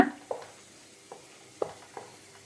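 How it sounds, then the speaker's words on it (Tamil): Sweet mixture flavored with cardamom being stirred in a pan over a low flame, a few soft scraping strokes at an uneven rhythm over a faint sizzle, close and quiet. "ஏலக்காய் சேர்த்துட்டு நல்லா அதை கிளறி விட்டுருங்க"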